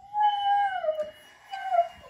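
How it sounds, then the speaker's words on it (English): A dog howls in two drawn-out, wavering cries with a brief whimpering pause between them, close by inside a house during stair baluster repair work. "Our dog's being loud."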